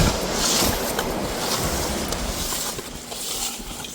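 Strong wind and sea waves along a seashore, a continuous loud roaring wash of surf with gusting wind buffeting the microphone, no voices.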